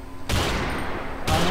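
Heavy gunfire from the video game Call of DooM, two dense bursts of loud, sustained shooting separated by a short break, close and filling the whole clip.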